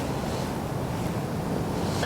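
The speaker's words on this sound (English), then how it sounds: "It's a little windy" Wind blowing outdoors on a snowy Pennsylvania morning while deer hunting, a steady broadband rush and microphone buffeting that fills the whole stretch at an even, moderately loud level with no voices.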